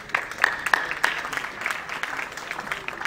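Scattered applause at a seminar welcoming the MCHI Thane Unit President, a thin round of claps from a modest audience, fairly faint and brief.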